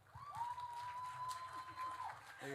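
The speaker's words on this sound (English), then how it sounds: "Please give a warm round of applause for that vegan" An audience applauds and cheers for a vegan couple at a vegan festival in Adelaide, with steady crowd clapping throughout and a thin ringing tone running over it.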